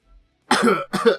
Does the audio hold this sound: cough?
yes